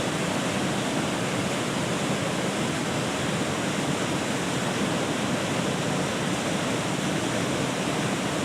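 Water pours between two large stands of rock at a waterfall, a constant broadband rush that stays steady and full for the whole stretch, with no voices over it.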